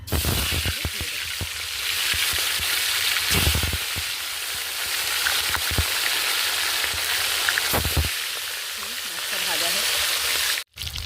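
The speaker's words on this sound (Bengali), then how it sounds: "এবার আমি মাছটা দিয়ে দেবো কড়াইয়ের তেলটা গরম হয়ে গেছে" Fish fries with steady loud sizzling in hot oil in a wok, with occasional clinks and scrapes of a utensil in the pan.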